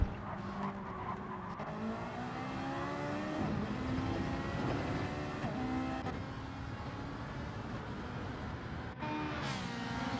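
Race cars in Gran Turismo 7 running downhill toward a tight hairpin, engines droning and rising in pitch through gear changes, with brief tire squeal, the sound continuous and fairly loud throughout.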